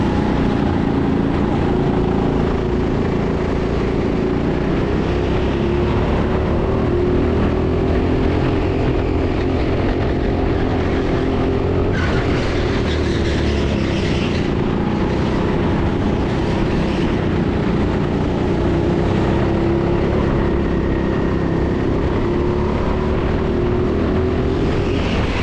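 A go-kart engine races around the indoor TeamSport Sheffield circuit, a steady continuous drone with a rising and falling whine as the kart weaves past slower traffic, close and loud throughout without speech.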